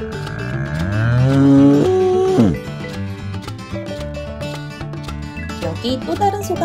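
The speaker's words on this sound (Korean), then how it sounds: "우리에게 우유를 주는 젖소." A dairy cow lets out a loud, rising moo that breaks off abruptly, followed by quieter background sound and music; a toy farm diorama setting.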